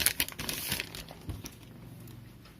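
Packaging of an Honor 8C phone crinkles and rustles in short bursts as the box is opened, loudest early and then settling into faint handling noise.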